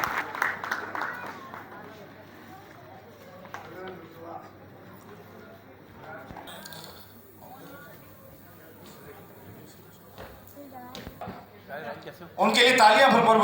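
Audience applause breaks out at a cultural event at the Arts Council in Karachi, Pakistan, welcoming a performer to the stage. Announcer speech carries most of the span, and a loud burst of clapping swells near the end.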